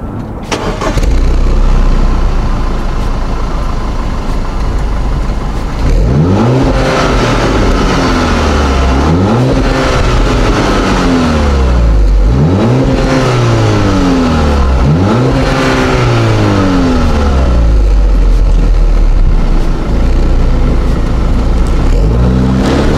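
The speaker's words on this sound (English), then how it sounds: "We're going to be doing a startup, some revs, and then a takeoff." Audi A5 fitted with its stock exhaust starts up and settles into a loud, close idle, then is revved in several rising-and-falling sweeps with short pauses between them, one long throaty note to finish.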